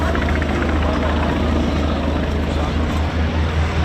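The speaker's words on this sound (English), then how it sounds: "And here they go, the two Beechcraft D-17 stagger wings." Two Beechcraft D-17 Staggerwing biplanes run their radial engines at an airshow, a loud, steady low rumble and drone that holds without a break, with no talk over it.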